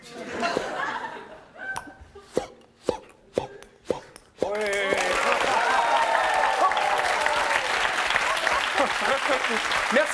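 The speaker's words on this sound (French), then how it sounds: "il faudrait l'applaudir très très vite parce que ça finit très rapide" A studio audience of a French TV show laughs and chuckles over a few scattered sharp sounds, then bursts into loud, sustained applause that fills the second half, with voices mixed into the crowd noise.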